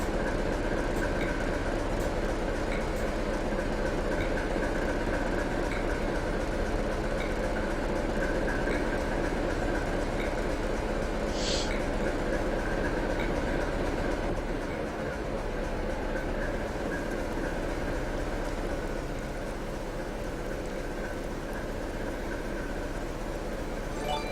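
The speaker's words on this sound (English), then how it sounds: "Train's ready to depart." A Class 73 train runs in Train Simulator 2016 on the Chatham Main Line, a continuous rumbling drone with faint rhythmic clatter that holds steady for the whole stretch.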